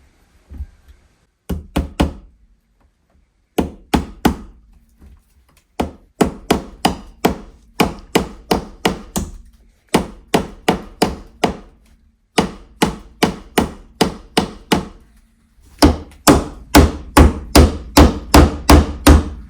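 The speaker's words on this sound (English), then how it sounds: "You just find a spot where you can flatten the wire out against the stud and then tap in a staple to hold it in place." Staples hammered in to fix electrical wire to a wooden wall stud: loud, close hammer blows in quick rhythmic bursts of several strikes each, separated by short pauses.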